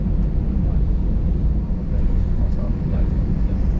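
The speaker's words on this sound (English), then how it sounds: "We taxied fast at Lufthansa's home base." Steady low rumble of a Lufthansa Airbus A321-200 jet taxiing fast at its Frankfurt home base, a continuous broadband roar heard from inside the cabin with no distinct events.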